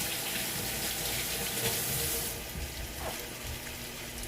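Tap water runs steadily into a kitchen sink while vegetables for a beef stew are rinsed under it, a continuous close splashing stream that eases off slightly partway through.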